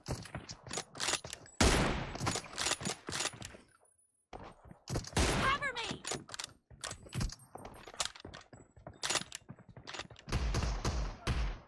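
Gunfire in the mobile battle royale game BGMI, sharp loud shots and fast bursts in irregular clusters with brief quiet gaps, mechanical clicks between them, and no voices.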